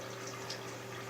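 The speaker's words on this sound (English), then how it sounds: "I got a small fountain pump in there agitating the water and making it splash" A small fountain pump agitates and splashes water inside a homemade swamp cooler cooled with ice in 2-liter bottles, giving a steady close wash of splashing over a constant low pump hum.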